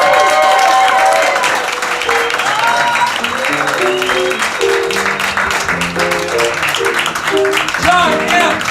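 A comedy show audience claps and applauds steadily throughout, loud and close, with voices mixed into the noise.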